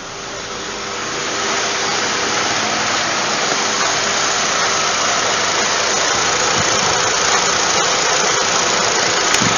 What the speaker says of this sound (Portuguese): Ventoinha disparou, normal.